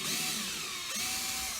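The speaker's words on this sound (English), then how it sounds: "I'm going to drill a 2mm hole into the lid, gently, and making sure it stays level." Power drill boring a 2mm hole into a wooden tacklebox lid, a steady high whine that dips briefly midway and then resumes, close and continuous.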